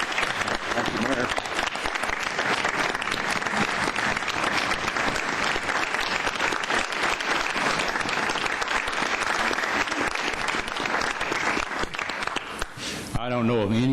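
Sustained, dense applause from a council meeting audience honoring a retiring city attorney, steady and loud for most of the span before thinning out near the end.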